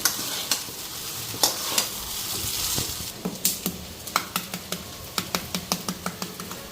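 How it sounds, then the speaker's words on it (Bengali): Chaat is stirred while it reheats in a pan with a soft sizzle, and a spoon scrapes and knocks against the pan in a quickening series of sharp taps up close. "চাটা একটু গরম করে নিতেছি, সকালে বানানো তো একদম ঠান্ডা হয়ে গেছে।"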